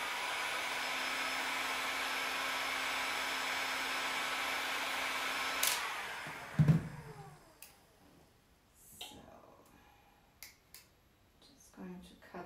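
Hot air blower heating a piece to make it bendable, a steady loud blowing whoosh with a faint hum that cuts off partway through, followed by a few sharp clicks and taps and quiet handling noises.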